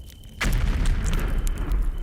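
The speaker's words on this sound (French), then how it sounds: "celle-ci est soudainement secouée par une violente explosion" A violent explosion rocks a large mansion, bursting in with a sudden loud boom followed by a sustained rumbling roar that fills the space and lingers without easing.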